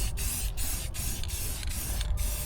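Paint sprayed in short, regular bursts onto wheels for a thin sticky coat during a Suzuki Samurai chassis build, about six hissing pulses evenly spaced over a steady low background hum, close and fairly loud.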